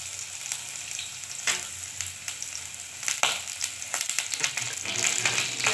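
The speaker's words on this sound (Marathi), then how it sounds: "बारीक चिरलेला कांदा टाकलाय। कांदा चांगला लाल होऊन द्यायचा।" Finely chopped onion and garlic fry in hot oil, giving a continuous close sizzle. Stirring clatters and scrapes come through in uneven bursts that get busier toward the end.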